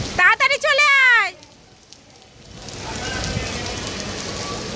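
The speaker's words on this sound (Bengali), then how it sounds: "দেখো প্রচণ্ড বৃষ্টি শুরু হয়ে গেছে" A sudden heavy nighttime downpour outside builds into a steady, dense broadband hiss after a short burst of someone speaking at the start.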